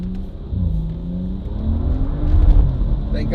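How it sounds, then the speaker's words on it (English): A tuned BMW 435i turbo with over 500 wheel horsepower pulls hard in second gear from about 20 mph, engine note climbing steadily in pitch and loudness over a few seconds, heard from inside the car. "We'll get a little pull here in second gear from about 20 miles an hour, just mat it."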